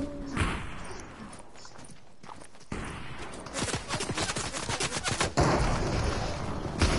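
Sniper fire in an online shooter game: sharp gunshot cracks, then a rapid run of repeated shots with footstep-like clatter, mixed with game noise and no clear talk.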